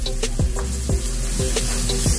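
Onion sizzles in a hot pan while making chicken humba, a steady close crackle of frying broken by a few quick scraping strokes of a spoon stirring through it.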